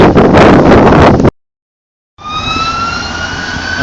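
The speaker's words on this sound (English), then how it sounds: "I've got sirens going on around me" Emergency vehicle sirens wail outdoors with wind buffeting the microphone, loud at first, then cut off by a gap of silence before a rising siren tone returns.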